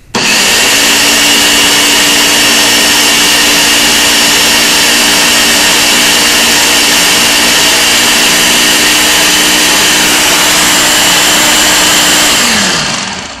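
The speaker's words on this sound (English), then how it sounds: "The Ninja says not to run it for more than about 30 seconds without stopping" A Ninja blender whips cream on its way to becoming butter. Its motor roars loud and steady for about twelve seconds with a constant high whine, then spins down and cuts off.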